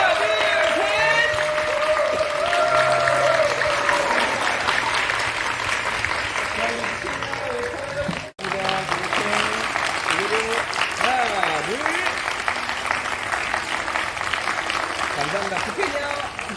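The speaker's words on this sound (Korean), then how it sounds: "우리 친구분들 박수 주시고" Wedding guests applauding at a church ceremony, a steady burst of clapping from a nearby group that carries on throughout, with a voice speaking over it and a brief cut midway.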